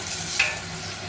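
Butter sizzles steadily in a pan while a sauce for lasagna is started, giving a close, even frying hiss with a brief stir partway through and no talk.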